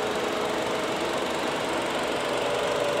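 A 1.5-liter gasoline engine in a 2024 Hyundai Creta GLS runs at a steady, even idle, with a continuous moderate hum and no talk over it.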